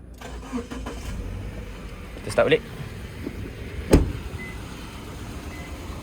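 A small SUV's engine is cranked and starts, with a brief whirring crank burst followed by a second start attempt and a steady low idle rumble behind it, recorded close in a quiet setting.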